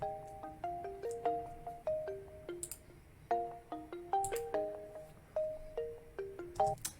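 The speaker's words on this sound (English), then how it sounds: "I just grabbed the pluck from the same bank." A bright, plucked hyperpop synth melody of short, quick notes plays in a bouncing pattern an octave up, each note decaying fast, clear and fairly soft.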